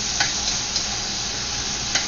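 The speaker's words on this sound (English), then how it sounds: "fry the fava bean and chili paste in oil for a bit before you add any water to make the sauce" Fava bean and chili paste frying in oil gives a steady, close sizzle that holds evenly, with a few faint tapping clicks from stirring.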